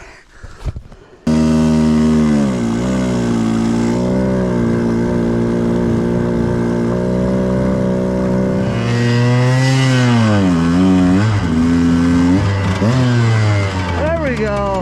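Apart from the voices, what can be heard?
125 dirt bike towing a 300 dirt bike in snow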